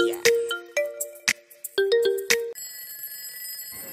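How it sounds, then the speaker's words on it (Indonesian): Cartoon alarm ringing: a bright, synthetic melodic chime in quick notes with sharp hits mixed in, then a sustained high electronic tone that holds until the end, with no talking. "Alarm bunyi tanda dimulai."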